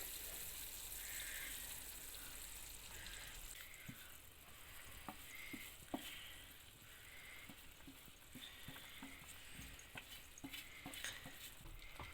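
Quiet kitchen sounds of a spoon stirring flour into boiling water in a pot over low flame for modak dough, low bubbling and sizzling, with scattered soft taps against the pan and no talk.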